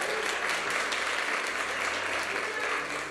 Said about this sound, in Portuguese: Aplauda bem alto, irmãos.